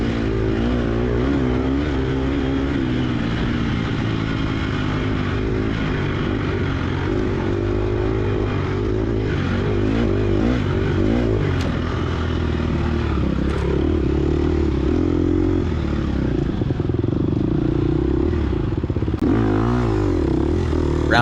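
Dirt bike in a cross-country sand race, engine idling low and rough while the bike coasts downhill, a loud continuous rumble with clattering chassis and wind noise close to the rider.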